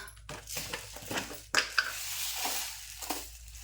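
Mustard seeds dropped into a spoonful of hot oil in a pan, giving faint crackling and light popping with a few sharp clinks of a spoon against the pan, quiet and close with no talk.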